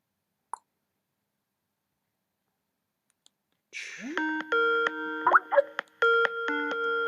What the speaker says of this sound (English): I love the ringtone here.